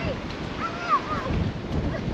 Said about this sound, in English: Basically, it's really windy,